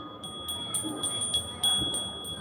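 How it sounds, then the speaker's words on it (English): Tibetan bells in a shop in Lijiang ring with clear sustained tones, soft repeated strikes sounding under a quiet background. "So I'm in a shop that specialises in these beautiful Tibetan bells."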